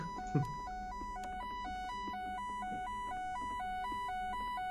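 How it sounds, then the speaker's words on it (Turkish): An electronic fire alarm in an asylum in the Roblox horror game Specter sounds a steady two-tone beeping that alternates regularly. It plays at moderate volume over faint background noise, with no talk. "Yangın alarmı çalıyor."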